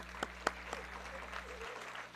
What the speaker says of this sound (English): I want you to all clap and turn around and look at your parents and your teachers